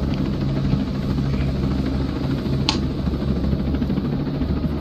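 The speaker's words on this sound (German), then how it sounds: "Wo ist mein Freund der Hubschrauber? Den höre ich." Helicopter flying in the video game Ghost Recon Breakpoint, a steady low rotor and engine drone that holds at an even level throughout with no talk over it.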